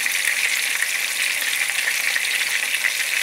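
Fish frying in hot oil gives a dense, steady, even sizzle, loud and close, with no talk over it.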